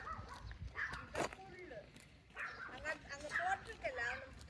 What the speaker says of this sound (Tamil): அங்கே நாய் சத்தம் கேட்குது